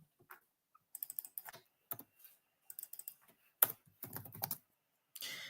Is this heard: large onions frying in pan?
no